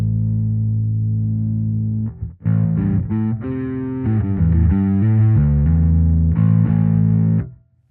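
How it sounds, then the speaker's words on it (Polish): A bass guitar plays through a Fender Super Bassman tube bass amp with its clean and overdriven channels blended, sustained low notes then a run of gritty, buzzing phrases, loud and without talk. "Słyszymy kanał czysty i przesterowany jednocześnie."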